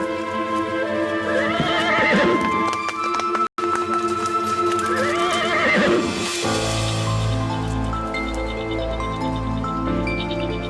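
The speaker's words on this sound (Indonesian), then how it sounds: "Itu kayak ada suara tapak kaki kuda." A horse whinnies loudly twice, with a clip-clop of hooves on the ground, close and prominent, then a held musical tone carries on after the neighs.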